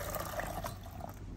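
Hot water pours steadily into a dallah coffee pot, a continuous close gurgling splash for about a second and a half.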